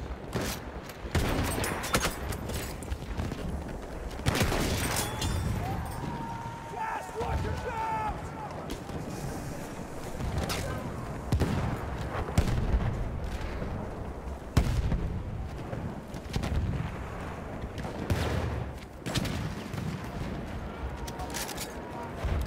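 Battlefield 1 combat with bursts of machine gun fire and scattered explosions, irregular loud cracks and rattles repeating across a long stretch of battle din, with shouting voices mixed in.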